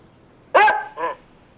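A dog gives two close, loud barks, the first sharp and strong and the second shorter and softer, against a quiet background.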